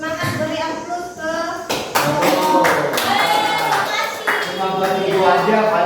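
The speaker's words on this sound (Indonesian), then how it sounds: "semangat, beri aplaus ke" Classroom applause breaks out and keeps going as scattered, uneven hand claps. Voices talk over it and the clapping grows fuller partway through.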